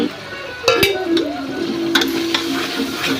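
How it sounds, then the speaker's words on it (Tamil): Masala is stirred into chicken biryani in a pan, with a soft sizzle under several sharp metallic spatula clinks against the pan and a faint voice-like tone. "நல்லா கிளறி விட்டுக்கோங்க நல்லா மசாலா வாசனை போகிற வரைக்கும் பச்சை வாசனை போகிற வரைக்கும் வதக்கணும்"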